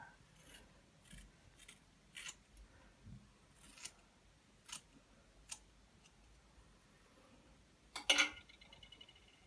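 Scissors cut straight across hair in a quiet room, a series of soft, crisp snips at irregular intervals, with one louder, closer cut near the end.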